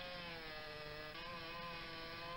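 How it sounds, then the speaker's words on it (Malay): A chainsaw cuts up the trunk of an old, rotten tree that fell onto a house, worked by a disaster-response crew in Cianjur. The engine holds a steady buzzing drone at moderate distance, fairly faint, without speech. "menggunakan gergaji mesin langsung mengevakuasi dan memotong batang pohon yang menimpa rumah warga"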